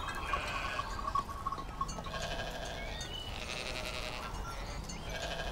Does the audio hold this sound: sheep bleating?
yes